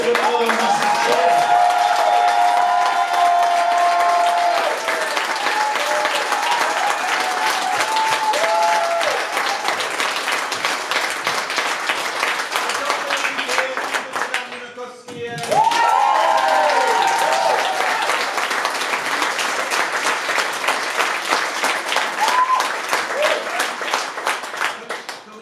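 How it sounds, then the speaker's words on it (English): A concert audience applauds and cheers after the final song of a tribute show. Loud, dense clapping with shouts and whoops runs throughout, dips briefly midway, then swells again. "So onwards and upwards, give it all a massive cheer."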